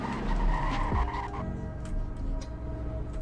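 A car in the Greenville video game brakes hard with a squealing skid, loud engine hum and tire screech in the first second or so, then settling to a lower steady drone with a few faint clicks.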